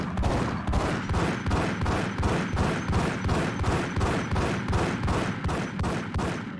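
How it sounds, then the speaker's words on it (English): Sustained automatic gunfire from the Max Payne video game pounds out in rapid, evenly spaced shots, loud and close, with no pauses. "They're just shooting a wall."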